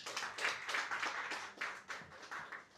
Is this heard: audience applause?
yes